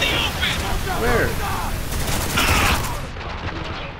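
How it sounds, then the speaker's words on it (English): Rapid gunfire bursts crackle in the Spec Ops: The Line video game amid the battle soundscape, a voice talking over the shots before the action fades quieter near the end. "I may have shot Lugo a little bit"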